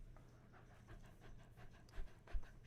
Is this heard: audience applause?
no